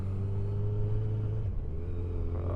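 A motorcycle engine runs in the cold with a low, steady rumble and a pitch shift midway as it changes gear, close and moderately loud.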